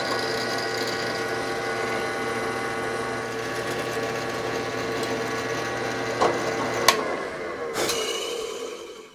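A power drill bores through a clutch fork hole on a Triumph TR4 gearbox part, a steady high whine held for several seconds, ending with a couple of sharp clicks as the bit breaks through and stops.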